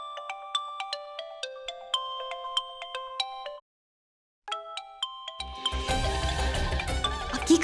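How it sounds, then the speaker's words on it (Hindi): A phone ringtone plays a repeating chiming melody indoors at night. The tune breaks off for about a second, starts again, and then gives way to louder background music. "अब इतनी रात को कौन फोन कर रहा है?"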